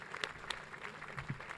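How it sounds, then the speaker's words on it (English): A brief, fairly faint patter of audience applause for the President at the Lohana International Business Forum 2023, scattered claps spread across a large room with no talking. "Let's clap for the President."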